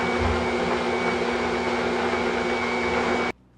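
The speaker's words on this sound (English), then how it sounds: "Let's mix up the butter, the brown sugar, and the granulated sugar." An electric mixer whirs loudly and steadily as it creams butter with brown and granulated sugar for a chocolate banana bundt cake, then cuts off abruptly near the end.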